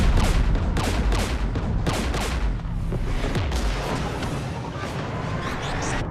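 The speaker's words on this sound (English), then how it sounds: "We're taking fire." Sustained gunfire and heavy booms in Mass Effect 3 during a fight against Geth near a jamming tower, loud and dense, with rapid overlapping shots and blasts throughout.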